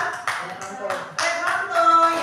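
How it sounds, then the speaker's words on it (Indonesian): A few people clap in a classroom for students during a geometry lesson, giving sparse, uneven bursts of claps over background voices and tones. "beri tepuk tangan kepada John dan"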